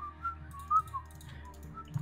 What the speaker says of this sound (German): Kann mir bitte einer pfeifen?